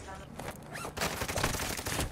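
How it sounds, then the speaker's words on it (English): Rapid video game gunfire, a dense fusillade of close, loud shots that grows heavier in the second half, with a voice heard briefly over it. "Oh, dang, I'm getting shot from behind, bro."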